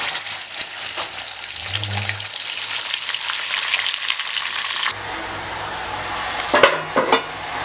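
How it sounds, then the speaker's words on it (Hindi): Beef frying in a pan for nihari gives a loud, continuous sizzle that drops slightly partway through, followed by a few sharp knocks near the end. "जितनी देर में मैं गोश्त को फ्राई करूँगी"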